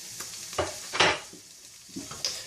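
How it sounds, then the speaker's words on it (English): Garlic and chilli hitting a hot pan for coq au vin, with short bursts of sizzling and a few stirring scrapes, loud and close with no talk. "I'm going to throw in the garlic and the chilli. Just fry that off"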